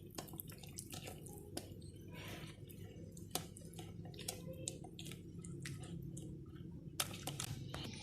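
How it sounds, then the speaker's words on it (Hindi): Warm milk is stirred into cake batter for a hot milk cake, giving soft wet squishing and dripping sounds with frequent small clicks of a utensil against the bowl, steady and close throughout. "अब हम इसको बैटर में डाल देंगे और इसको हम अच्छे से मिक्स कर लेंगे।"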